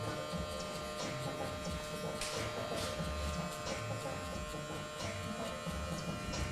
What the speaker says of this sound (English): Clipper closed. Clipper halfway open.